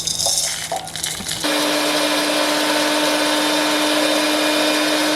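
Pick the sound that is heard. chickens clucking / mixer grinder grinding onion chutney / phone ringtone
mixer grinder grinding onion chutney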